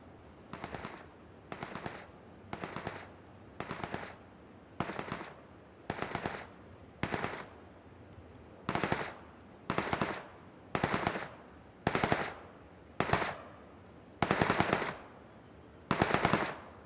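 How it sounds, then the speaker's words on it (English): UMP submachine gunfire in PUBG, in repeated short bursts, about a dozen rapid volleys separated by brief pauses, growing somewhat louder and closer toward the end. "listen what the sound of a UMP being fired in burst and full auto is"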